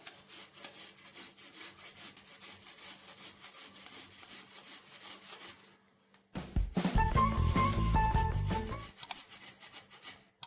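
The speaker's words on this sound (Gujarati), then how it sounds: "ગાજર ખમણવા માટે આપણે આવી ખમણી લીધેલી છે" Carrots rubbed against a large-holed kitchen grater give a close, steady rasping scrape of repeated strokes, turning louder and coarser partway through.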